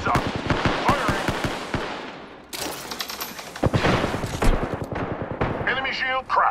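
Rapid gunfire in the Apex Legends video game, with dense bursts of automatic shots, a brief lull, then more volleys and impacts, while character voices call out over the action.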